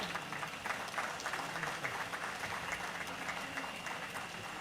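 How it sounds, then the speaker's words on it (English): Steady applause from a crowd at a Zenith Bank and UNILAG alumni house commissioning, soft and somewhat distant, clapping continuously without pause. "I think it's important for us to give a very resounding applause to our chairman and founder, Dr. Jim Ovia, CFR."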